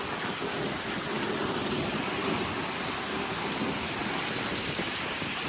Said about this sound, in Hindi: आप देख रहे हो कितना हवा चल रहा है यहाँ पे